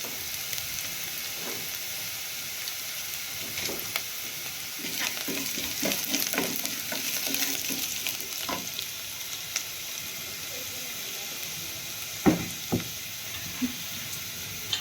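Onions fry in a pan with turmeric added, giving a steady soft sizzle with scattered scrapes and knocks of stirring, fairly quiet and close, with no talking.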